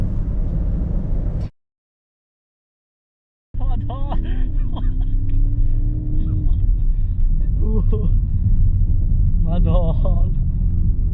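A Porsche sports car tuned to 760 horsepower accelerates at full throttle, a loud, dense engine roar heard from inside the cabin, broken by a short silence, with people talking over it throughout.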